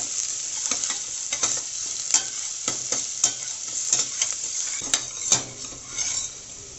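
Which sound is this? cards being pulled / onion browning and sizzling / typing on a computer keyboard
onion browning and sizzling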